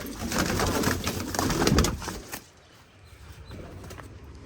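Pigeons coo steadily at a rooftop loft where several birds are kept for flying, a loud, close chorus of overlapping coos that thins and softens after about two seconds.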